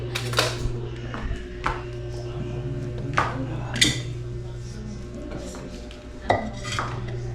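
A cooking pot holding freshly cooked rice is handled, giving several sharp metallic clinks and clanks at irregular intervals, close and fairly crisp, with a low hum and some quiet voice underneath.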